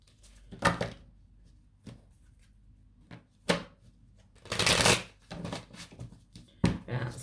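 Tarot cards are shuffled in several quick riffling bursts, close up, separated by short pauses and soft handling noises.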